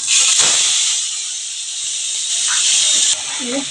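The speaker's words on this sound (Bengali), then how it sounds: "এবার আমি পেঁয়াজ বাটা দিয়ে দিচ্ছি" Onion paste hits hot oil in a pan for a cauliflower and snakehead fish curry, giving a loud, dense, continuous hiss with a few faint knocks, close by.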